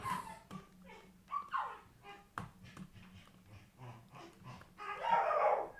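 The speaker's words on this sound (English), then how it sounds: "Apologies if you can hear the dog." A dog barks now and then in the background of a room, the yaps faint and intermittent beneath ongoing talk.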